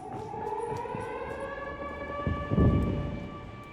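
An air raid civil defense siren wails at a steady pitch, fairly faint and distant, with low rumbling noise underneath.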